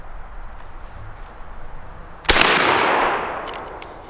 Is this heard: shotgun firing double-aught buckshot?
yes